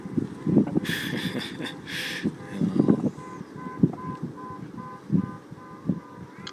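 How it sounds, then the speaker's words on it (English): A car alarm repeats a steady electronic tone pattern in the distance, with scattered thumps and street noise in the foreground. "I've got a car alarm going on."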